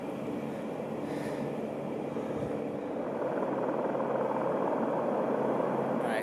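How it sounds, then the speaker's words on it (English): A helicopter flies low over the Grand Canyon near Bright Angel, its steady rotor and engine roar holding loud and continuous throughout, with no talking. "so we got a chopper coming down in here"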